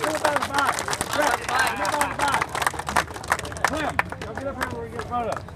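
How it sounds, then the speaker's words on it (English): A crowd at a motorcycle event applauds racer Rex Staten with scattered claps and loud chatter, voices and cheers mixing in a busy, close hubbub. "ladies and gentlemen, give a round of applause"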